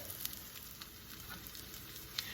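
Keto salmon patties frying in a pan with a steady, fine crackling sizzle, close and even throughout, with a few small pops.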